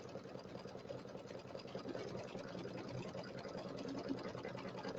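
An embroidery machine stitches a St Patrick's Day settee pillow, a steady, fast mechanical whir and patter that runs evenly throughout, fairly quiet and alone.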